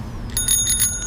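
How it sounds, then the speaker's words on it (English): A small bell on a CUBE Elly Ride Hybrid 400 e-bike gives a quick bright ring of a few rapid strikes, close and clear over a low background rumble. "Fun little bell."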